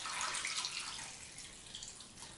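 Vegetable broth is poured into a slow cooker for a Moroccan spiced red lentil and sweet potato stew, making a soft, continuous splashing gurgle that eases off slightly toward the end.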